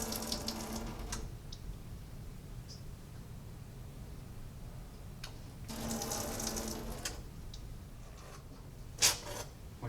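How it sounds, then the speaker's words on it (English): Water squeegeed off a wet asphalt concrete sample in a lab, heard as soft running, splashing bursts around the start and again near the middle, with a brief scrape at the end over a quiet hiss. "we can squeegee out the excess water"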